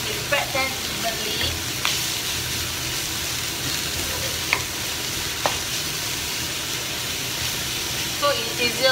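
French beans stir-frying in a pan give a steady, dense sizzle throughout, broken by a few sharp clicks and scrapes of a utensil; the frying sits close and fairly loud.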